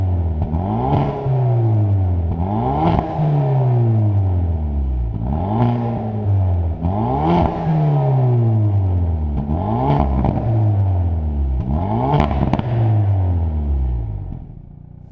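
A manual car's engine blips and drops again and again during heel-toe downshifts, six or seven sharp rev jumps, each falling back in an even rhythm. The run is loud and close throughout, with no voices.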